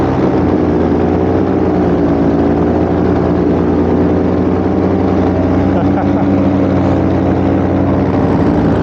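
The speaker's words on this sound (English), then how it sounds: "This motor does run very smooth and very quiet." A Polini Thor 303 paramotor engine runs at a steady, smooth drone with a constant low hum, loud and close throughout, with no talk.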